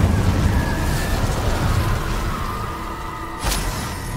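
An Incendio fire spell in Hogwarts Legacy gives a continuous roaring, whooshing burst of flame, loud and sustained, with a sharp crackling flare near the end.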